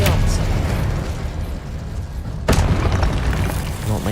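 An Expelliarmus spell cast in the video game Hogwarts Legacy lands as a sharp, loud burst midway, over a continuous rumble of combat noise and a speaking voice.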